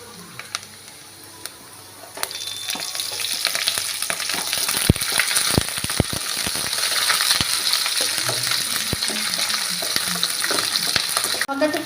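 Green chilies frying in hot oil in a pan, with a quiet start and then a loud crackling sizzle full of sharp pops and utensil clicks that carries on steadily.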